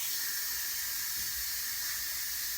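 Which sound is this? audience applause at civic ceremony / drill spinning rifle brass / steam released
steam released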